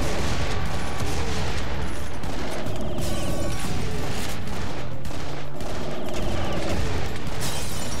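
Gunfire in a video game, a pistol firing amid a dense, loud, continuous wash of shots, clanking mechanisms and booms throughout, with no clear gaps.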